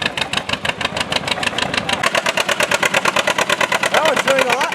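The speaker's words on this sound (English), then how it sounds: "There goes that John Deere A I saw earlier." John Deere A tractor running at a Stoneboro fair: a close, loud engine chugs in a steady, distinct pulsing rhythm, with voices talking over it.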